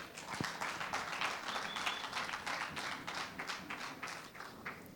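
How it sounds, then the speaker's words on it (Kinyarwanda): A crowd at a Rwandan itorero gathering claps continuously, a dense, steady patter of many hands at moderate distance, with no speech over it. "Amashyi menshi cyane."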